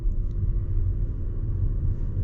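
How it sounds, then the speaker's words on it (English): A 2023 Toyota RAV4 Prime plug-in hybrid's engine runs while charging the battery, heard from inside the cabin as a steady, low rumble that stays even for the whole short stretch. "right now, the engine's on, but it says EV mode"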